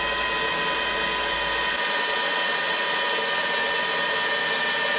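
Steady whirring drill with a spot weld cutter boring a 1/8 inch pilot hole into the inner rocker panel of a Mercury Sable station wagon, continuous and close for the whole stretch, no talking.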